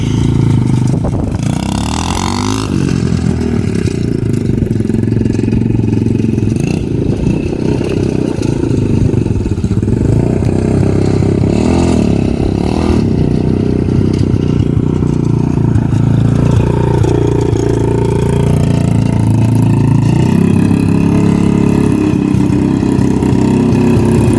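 A rattly motorcycle engine runs steadily up close, a continuous low clattering idle with mechanical rattle throughout and no talking.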